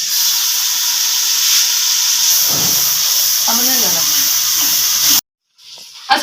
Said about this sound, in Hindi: तो मेरा जो मसाला है वो अच्छी तरीके से भून गया।